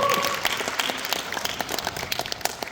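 A seated audience at a book launch event for an essay literature award claps in a brisk, continuous round that tapers slightly toward the end, with faint voices beneath.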